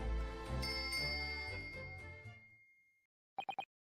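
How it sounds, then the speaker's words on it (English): A service bell rings in the video game Dai Gyakuten Saiban, over a bright chiming musical flourish that fades out. Then come three quick, crisp bell dings close together. "It's a service bell."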